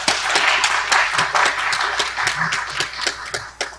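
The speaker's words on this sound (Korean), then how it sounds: "격려의 박수 부탁드립니다." Encouraging applause from the audience at a Songpa youth forum in Seoul, a crowd of sharp, distinct claps in a steady patter over a few seconds, with little talk.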